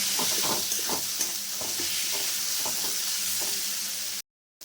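Oil sizzles steadily in a pan with spices and garam masala while a utensil scrapes and stirs in short, repeated strokes, then the sound cuts to brief silence at the end.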